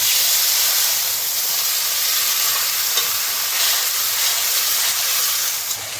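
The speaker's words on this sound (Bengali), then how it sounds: "আমি জলটা দিয়ে দিচ্ছি।" Water goes into a hot pan of fish curry with taro leaves and dried chilli, giving a loud, steady, steamy hiss that holds for several seconds.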